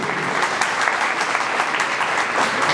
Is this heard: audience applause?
yes